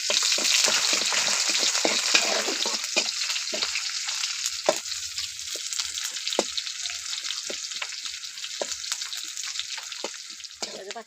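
Onion fries in hot oil with mustard seeds in a kadai, producing a loud, continuous sizzle with crackling pops that eases slightly over time.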